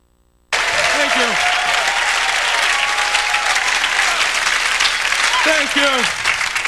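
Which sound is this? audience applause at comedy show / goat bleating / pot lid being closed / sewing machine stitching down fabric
audience applause at comedy show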